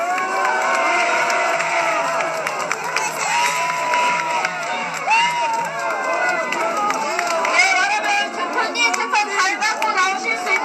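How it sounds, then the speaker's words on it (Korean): Dense crowd at an Our Republican Party political rally in Korea cheering, whooping and shouting in many overlapping voices, loud and sustained throughout with chatter mixed in. "여러분 권 대표님 힘내시라고 더 크게, 더 힘차게 박수 쳐주시기 바랍니다."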